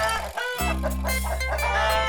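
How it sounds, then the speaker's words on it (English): Hens in a hen house in a field cluck and call in close, loud, repeated tonal bursts, several overlapping birds, with no talk. "The hens didn't listen to Bulgy's lies, so the arrangement worked well."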